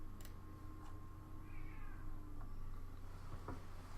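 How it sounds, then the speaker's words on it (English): Cat meows a few times, fairly faint and short, over a steady low electrical hum in an indoor room. "Kitty."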